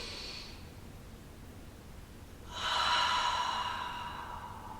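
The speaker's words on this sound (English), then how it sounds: "here we're going to take some deep breaths" A person breathes deeply while stretching, with a faint exhale at the start, then a long, slow, airy breath swelling up and slowly tapering, close and soft with no talking.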